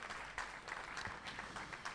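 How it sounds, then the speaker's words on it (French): A church congregation claps steadily together at a sermon, a dense, even patter of many hands heard from a distance. "Applaudissons le Seigneur."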